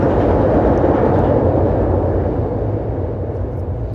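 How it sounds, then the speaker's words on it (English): A train passes close by with a loud, continuous rumbling roar that slowly eases off over a few seconds, with no talking over it. "I'm going to let the train pass."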